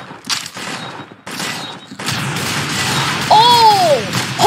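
Gunfire in the Roblox-style shooter Arsenal: bursts of rapid shots crackle through the first seconds, then a denser stretch of firing with whooshing game effects, fairly loud and close.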